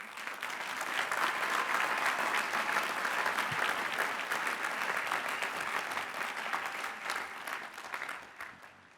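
A large audience at the 149th Lehigh University commencement in 2017 gives a long, sustained round of applause, loud and dense for nearly nine seconds before tapering off at the end.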